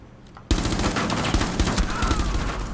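Heavy gunfire bursts out abruptly after a quiet moment in Rainbow Six Siege, including shotgun blasts, loud and close, continuing as a dense volley of shots and debris.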